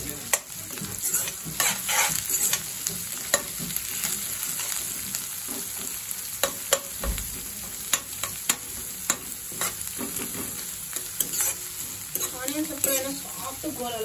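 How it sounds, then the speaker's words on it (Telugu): Finely chopped onions fry in a pan for a granny-style chicken fry, with a steady, close sizzle broken by frequent scraping strokes as they are stirred throughout. "కొంచెం ఫైన్ చాప్ ఆనియన్స్ అయితే ఆనియన్స్ మంచిగా ఫ్రై కావాలి"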